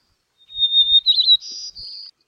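White-crowned sparrow singing in Alaska: a single clear, high whistled song lasting under two seconds, opening with sliding notes and ending in a buzzy trill, close and alone against silence.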